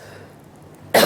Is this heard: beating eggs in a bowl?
no